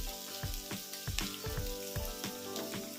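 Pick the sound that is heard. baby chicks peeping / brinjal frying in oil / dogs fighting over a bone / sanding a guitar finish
brinjal frying in oil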